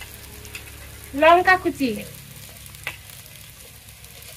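Ginger, garlic and chopped chilli fry in a pan, a brief sizzle with a few stirring sounds while a voice speaks briefly over the cooking.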